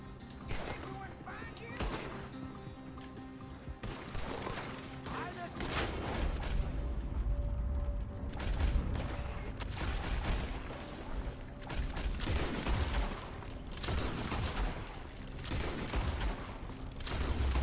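Gunfire in Red Dead Redemption 2 on PS4 Pro, with dense rapid shots, booming blasts and mechanical clatter over a constant rumble, loud and continuous, with voices talking now and then.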